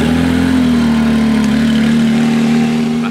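A Porsche 997 Turbo S supercar with grey wheels idling close by in Monaco, its engine giving a steady, loud, even hum that holds without change for the whole few seconds.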